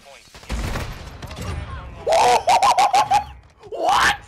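Gunfire bursts and explosive hits from a Modern Warfare 2 video game round with a Javelin launcher, loud and close, followed by a player's excited shouting and yelling over the game sounds.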